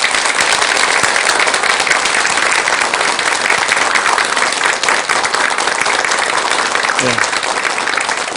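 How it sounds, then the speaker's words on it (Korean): Sustained, dense applause fills a Buddhist lecture hall honoring the nation's great senior monks, loud and steady throughout, with a brief spoken reply near the end. "전국의 훌륭하신 대덕 큰 스님들께 큰 박수 한번 주시기 바랍니다."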